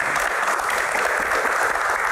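An audience claps throughout a talk-show Q&A, a dense, even wash of applause with no voices over it.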